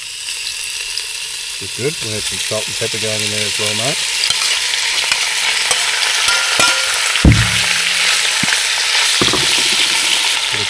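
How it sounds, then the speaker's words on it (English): Food browning in extra virgin olive oil inside a camp oven outdoors gives a steady, close sizzle and frying hiss throughout, with salt and pepper added; someone talks over it and brief clinks of utensils break in. "We're going to start browning this off. Gonna make a bit of a sizzle."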